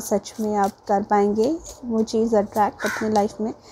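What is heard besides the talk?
crow cawing behind the speaker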